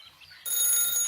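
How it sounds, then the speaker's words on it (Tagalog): A telephone rings loudly and continuously, starting abruptly after a brief quiet moment with faint background sound. "O ayan na, tumatawag na si Sir."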